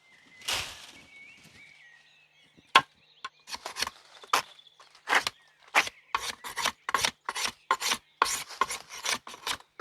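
A series of sharp, rasping strikes drilling into bamboo, speeding into a steady irregular rhythm after a brief scrape and pause, close and fairly loud.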